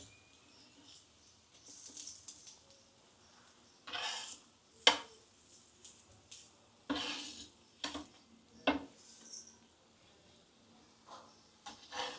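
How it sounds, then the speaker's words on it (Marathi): Katla fish frying quietly in a pan as it is turned over, with a faint sizzle under scattered scrapes and clinks of the spatula against the pan. "आपली एक बाजू झालेली आहे, मी पलटी करून घेते आहे"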